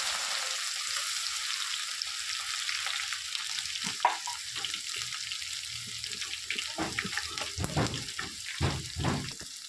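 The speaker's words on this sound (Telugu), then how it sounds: "అదే ఆయిల్లోని ఎల్లిపాయ ముద్ద వేసుకోవాలి" Garlic paste fries in oil left over from frying peanuts, with a steady soft sizzle and several sharp scraping and clattering bursts of stirring, loudest in the second half, and no one talking.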